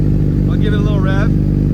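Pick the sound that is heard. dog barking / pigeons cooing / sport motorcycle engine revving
sport motorcycle engine revving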